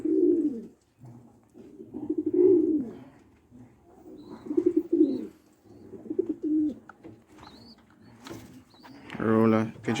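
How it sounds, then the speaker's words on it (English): Roller pigeons in a loft cooing up close in repeated low, throaty bursts of varying length, a burst every second or two, with a few brief higher chirps and faint background sounds. "Roller pigeons here."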